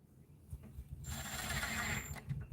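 Small screw being driven into a bathroom vanity cabinet with a power driver, a brief whirring burst of about a second, close by, with faint clicks and handling noises around it.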